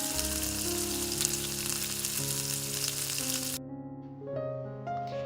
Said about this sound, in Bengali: তেলটা ভালো মতন করে গরম হয়ে গেলে তার মধ্যে কিন্তু কুচি করা কাটা পেঁয়াজটা দিয়ে দিচ্ছি।